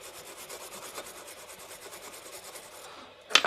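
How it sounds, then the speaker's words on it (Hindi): Something is rubbed clean with a cleaner: close, steady rhythmic scrubbing strokes that end in a few sharper, louder scrapes. "अब इसमें हम क्लीनर डालेंगे और इसको क्लीन करेंगे।"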